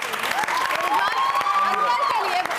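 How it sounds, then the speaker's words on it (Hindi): Audience applause for special guest Rizwan Aslam on a TV entertainment show, clapping and cheers mixed with a sung or spoken voice and music running over it. "हमारे स्पेशल गेस्ट रिजवान असलम के लिए बहुत सारी तालियां"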